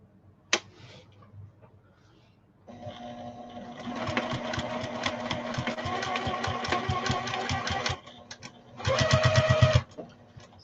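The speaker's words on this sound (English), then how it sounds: "let's sew our pocket on" A sewing machine stitches a pocket onto a fancy fabric shopping bag: after a few quiet handling clicks, it runs in a steady rapid whir for about five seconds, stops, then gives a short, louder burst.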